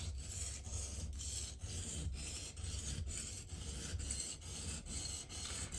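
A knife tip is sharpened on a whetstone, producing a continuous rasping scrape with regular strokes roughly every half second, close and steady without speech.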